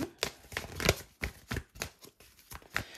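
Oracle cards being shuffled by hand, a steady run of riffling, slapping bursts close up, repeating about every third of a second with no talking over them.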